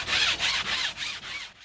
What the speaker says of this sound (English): to start sanding.